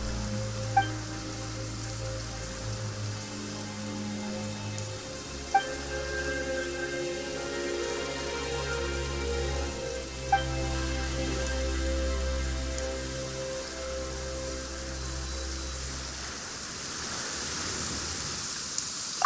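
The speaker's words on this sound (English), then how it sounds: "Why is it raining all of a sudden?" Steady rain hisses and patters in a Genshin Impact game scene, layered over sustained musical tones, with a few sharp clicks scattered throughout.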